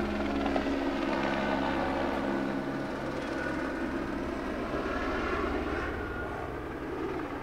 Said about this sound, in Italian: Abbiamo un elicottero proprio sopra le nostre teste, lo vedi Sebastian?